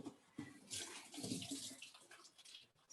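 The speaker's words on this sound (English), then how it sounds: "I have to wash my hands with soap and clean water" Hands being washed with soap and clean water before cooking, a faint close splashing and running of water with uneven rubbing rhythm, no voices.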